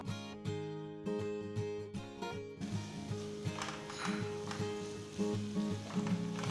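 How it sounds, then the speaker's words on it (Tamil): Onion and tomato sizzle and fry steadily in a pan, with occasional stirring scrapes, close and fairly loud throughout with no talking. "தக்காளி வெங்காயத்தோட நல்லா வதங்கட்டும்."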